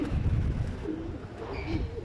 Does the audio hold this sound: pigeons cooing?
yes